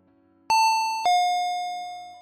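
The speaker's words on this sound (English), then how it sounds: "the doorbell rang" A doorbell rings with a clear two-tone ding-dong, two bright chimes that ring out and fade in a quiet room.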